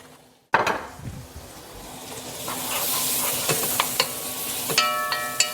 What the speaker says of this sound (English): We're going to let it saute for about 2 minutes.